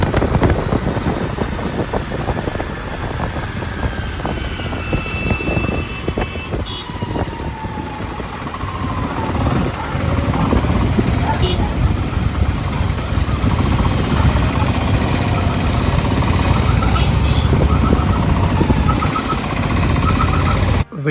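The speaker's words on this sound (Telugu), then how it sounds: "ఆ బైక్ నుంచి సౌండ్ అయితే ఆ రేంజ్లో ఉంది" A motorbike engine drones loudly and continuously while riding along Vizag beach road in heavy rain, with a rumbling roar, rising and falling revs and faint horn-like tones in the background traffic.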